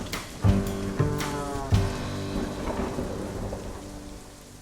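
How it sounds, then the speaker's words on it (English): Rain patters steadily throughout while a few sharp thunder cracks strike near the start and a low rumble rolls underneath. "Hey, it's raining out there."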